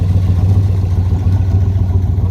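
A 1966 Corvette L72 427 roadster with side exhaust pipes runs steadily, its deep, loud engine rumble close and continuous with no talk.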